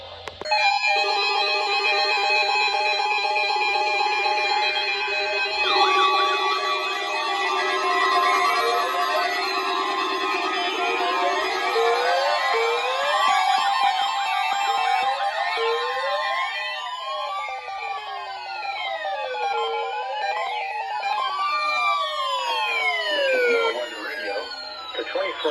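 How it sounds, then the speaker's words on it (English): Public warning alarm test tones from an Emergency Alert System broadcast for Florida transmitters, loud warbling and sweeping electronic tones that overlap and glide continuously for about twenty-five seconds. "Receiving signal to test the public warning alarm for transmitters in the Florida listening area"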